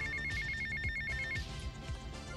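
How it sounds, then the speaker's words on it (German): A phone rings in the video game GTA Vice City: a quick series of repeated electronic ringtone pulses over low game background noise. The ringing stops partway through and no one speaks. "Ich muss jetzt echt an den Telefonanruf ran."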